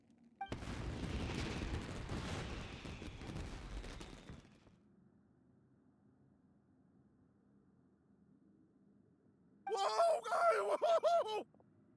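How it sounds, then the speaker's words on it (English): A Genshin Impact fireworks display bursts in a dense, crackling barrage of booms lasting about four seconds, then falls quiet before a character's voice speaks. "Yoimiya, this is turning into a bit of a fireworks display."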